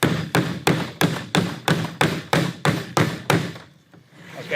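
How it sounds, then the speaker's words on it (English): Mallet blows driving an In-Lite deck light into place on a deck, about nine evenly spaced heavy thuds in steady rhythm, close and loud, then a short pause with faint handling noise. "I'm going to grab a mallet to finish up my install."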